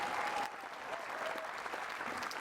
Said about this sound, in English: And Lisa Phillips applauds her opponent.